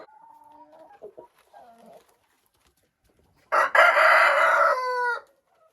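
Soft clucks from hens, then a loud rooster crow nearby that rings out for almost two seconds.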